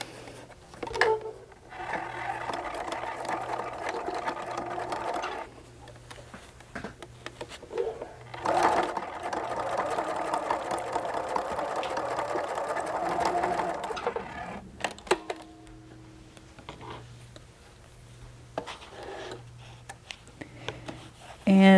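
A sewing machine straight stitching a zipper pencil case, a close steady whirring stitch run in several bursts with short pauses between, and a person speaks quietly over parts of it.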